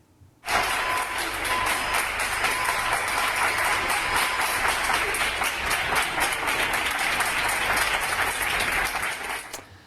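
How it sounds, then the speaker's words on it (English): Hospital staff in Spain applauding custodial workers, a sustained crowd of clapping and cheering that starts abruptly and stays steady and dense for about nine seconds. "This is the hospital staff in Spain, one of the hardest hit countries, and they're cheering the custodial staff"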